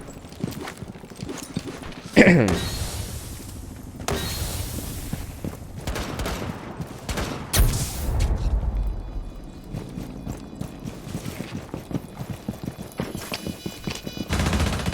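Gunfire in Rainbow Six Siege, a player shooting through a window: sharp shots and bursts stand out against a busy mix of in-game noise and thuds across the stretch.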